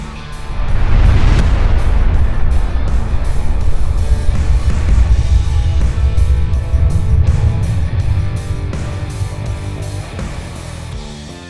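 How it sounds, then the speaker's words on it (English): A coal mine blasting shot sets off a loud, deep rumbling explosion that surges in and then sustains a long, heavy roar with crackling debris, slowly fading over several seconds, with no talking. "We just saw this incredible coal shot."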